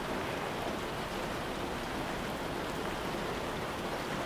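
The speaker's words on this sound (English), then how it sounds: "Rain drifts along the eaves, sliding along before pooling into the gutters." Steady rain falls on the eaves of a quiet town house and runs into the gutters, a continuous soft hiss that stays even and unbroken throughout, with no voices.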